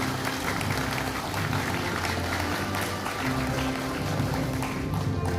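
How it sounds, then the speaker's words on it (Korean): Sustained applause from an audience at a political launch ceremony for a regional headquarters in a convention center, steady dense clapping with a low hum beneath, continuous throughout. "여러분 큰 박수 보내주십시오"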